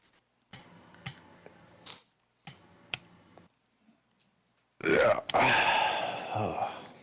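A loud, drawn-out burp right into a microphone comes near the end, after several sharp clicks and taps; someone talks through part of it.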